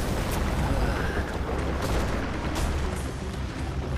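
Explosion in the video game Far Cry 4, a dense, steady roar of broadband rumble and crackle filling the whole span, loud and close, with no voices over it.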